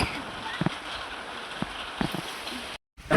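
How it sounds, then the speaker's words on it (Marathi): Sudden summer rain falls outside, giving a soft continuous hiss with a few scattered louder drips, heard from indoors at moderate distance before a brief dropout. "मस्त पाऊस पडतोय बाहेर खाली."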